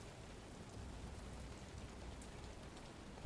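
Light drizzle falling in a video game, a soft, steady patter of rain with a faint, even hiss and no talking.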